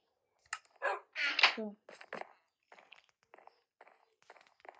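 A video-game dog gives a few short, sharp barks close up, followed by fainter scattered clicks and small sounds, with a voice talking over the game.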